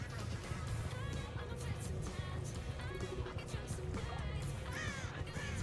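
Harsh crow caws from the Birds of Torment power in Dead by Daylight, played on the Nostromo map, several rising and falling calls over a constant rumbling game ambience.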